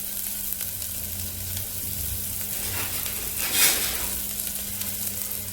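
Garlic and onion frying in oil in a pan for spinach dal khichdi, giving a steady close sizzle with a brief louder hiss of spattering near the end, and no voices.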